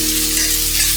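Finely chopped onions fry over a low flame with a steady, close, even sizzle and crackle, alone without talk.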